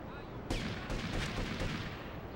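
Gunfire in the PS2 game Grand Theft Auto: Liberty City Stories erupts suddenly as a dense, loud burst of shots that sustains with several sharper cracks layered through a rolling wash of noise.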